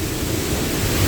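A mountain waterfall near Passo Tre Croci gives a steady, dense broadband roar, continuous and fairly loud with no other sounds.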